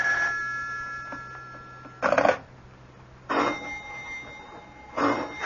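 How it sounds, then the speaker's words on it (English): An old telephone bell rings in three loud, separate bursts with short silences between them, heard alone and close. "Do something about that confounded phone. I can't, Mama. It'll just keep ringing."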